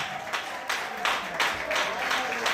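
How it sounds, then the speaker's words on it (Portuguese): A church congregation claps during a sermon, uneven bursts of applause swelling in waves over a couple of seconds, moderately loud and fairly close, with some voices mixed in. "Só quem crê e quer, dê uma salva de palmas bem forte."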